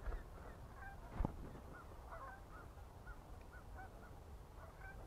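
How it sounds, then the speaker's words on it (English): Geese honk in a scattered, distant flock outdoors, repeated short calls drifting faintly over a steady wind-like background with no talking. "There's a few birds around there hanging out."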